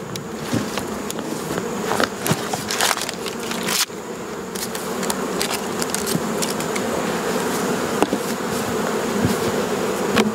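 Honey bee colony being fed pollen substitute patty and sugar syrup, giving a dense, continuous close buzz with scattered crackles and taps throughout.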